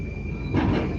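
A Moscow metro train rumbles loud and close, a steady low roar with a faint high whine that swells briefly halfway through.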